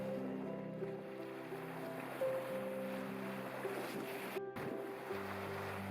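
A sailboat at sea in the Southern Ocean, with a steady wash of water and wind around the hull and faint tonal hums, heard alone and fairly quiet throughout.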